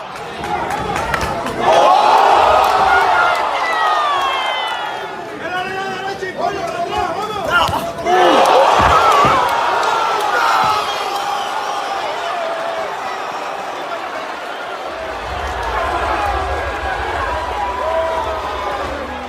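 A boxing arena crowd roars in a frenzy, a dense, sustained wall of cheering and shouting voices that surges loudest early and stays loud throughout, with a low rumble joining near the end.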